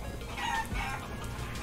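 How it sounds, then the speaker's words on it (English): Chickens cluck and squawk in the video game Guacamelee 2, a quiet, busy flurry of overlapping fowl calls lasting under two seconds. "That is a lot of chickens"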